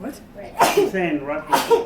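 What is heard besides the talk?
sneeze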